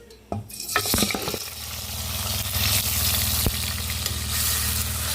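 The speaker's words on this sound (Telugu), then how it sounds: "ఆయిల్ అయితే బాగా వేడైంది తాలింపు వేసుకుందాం" A sharp clatter as spices hit hot oil for tempering a chicken curry, followed by a steady, loud sizzle and crackle that continues evenly throughout.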